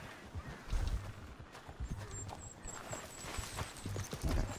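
Hooves of a horse in a video game clip-clop in an uneven walking rhythm, close and moderately loud, with a brief high whistle-like tone partway through and no speech.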